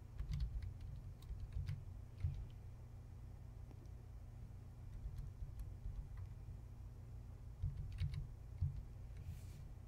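Keys on a computer keyboard tapped out in short clustered bursts while a folder name is entered, light clicks sitting faintly over a steady low hum.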